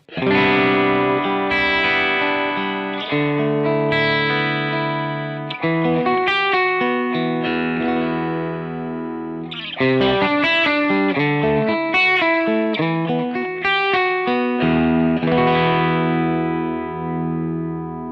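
Electric guitar through a Synergy Z Wreck preamp module with a glassy, chiming AC30-style tone and mild breakup, strummed chords and ringing single notes with reverb, played continuously and loud with no voices.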